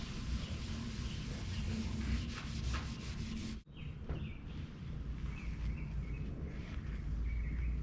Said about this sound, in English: this is the 3000 grit sanding pad, and I'm just going to go over this wet and just give that a good once over